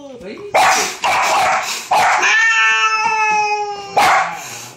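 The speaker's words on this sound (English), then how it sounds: "Suki's barking at her" A small dog yaps several times in quick bursts, close by, barking at a cat, with a drawn-out whiny cry between barks and the cat's meow mixed in.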